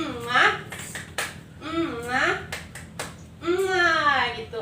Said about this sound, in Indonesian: kita tepuk kasih sayang dulu buat kita semua